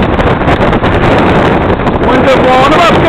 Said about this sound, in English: Winds are blowing about 15 knots,